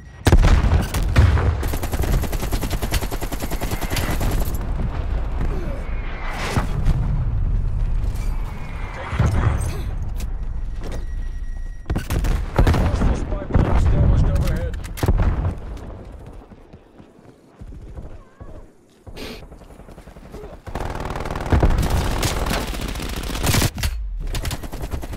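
Gunfight in Call of Duty Black Ops Cold War, with loud, close automatic gunfire in long rattling bursts, several sharp pauses and a quieter stretch in the middle before the shooting starts again.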